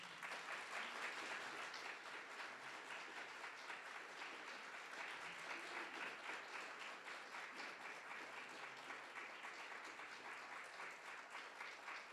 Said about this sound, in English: How about another round of applause for our beautiful speaker?